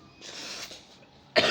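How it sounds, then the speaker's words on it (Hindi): A muffled cough rings out, then a pause, and a sharper, louder cough closes it, close to the microphone with no talking. "सॉरी खांसी आ रही कुछ"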